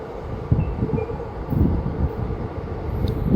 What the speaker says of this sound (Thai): ตอนนี้ขบวน 43 ก็ กำลังเข้าสถานีหัวหินครับ